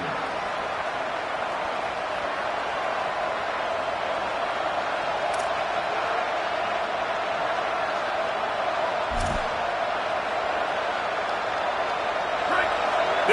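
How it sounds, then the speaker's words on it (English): Steady crowd roar fills a college basketball arena at a game between OU and SCU, a broad continuous wash of noise with a faint distant announcer voice and a brief thump partway through. "This crowd bringing the energy and noise early."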